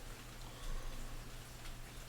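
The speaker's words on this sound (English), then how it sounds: "It's raining outside." Steady rain falls outside, a soft continuous patter with faint scattered drops and low rumbling background, no one speaking.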